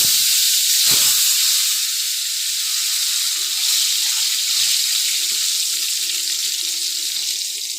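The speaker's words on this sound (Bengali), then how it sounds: "এবার আমি আলুগুলোকে ভেজে নেব" Potato pieces sizzle loudly in hot oil in a pan, a sharp, continuous hissing crackle that flares at the start and then settles into a steady fry.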